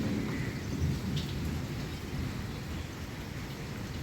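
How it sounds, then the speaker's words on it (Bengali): A rainstorm pours without a break, the dense hiss of rain layered over a continuous low thunder rumble, loud and steady throughout with no talking. "এই বিদ্যুতের শব্দটাই ভয় লাগে খুব।"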